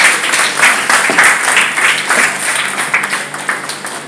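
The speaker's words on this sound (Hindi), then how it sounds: "चाहता हूँ जोरदार तालियां आपके लिए होनी चाहिए एक बार।" Loud, sustained applause from the audience at a Hindi poetry gathering during a senior citizens' honour ceremony, dense clapping filling the room steadily without letting up.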